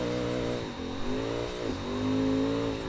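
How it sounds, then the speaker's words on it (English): A turbocharged V8 drift car in the Assetto Corsa racing game revs hard, its harmonic engine tone climbing and dipping through shifts, steady and close, with no speech. "Got that turboed V8 going on under the hood."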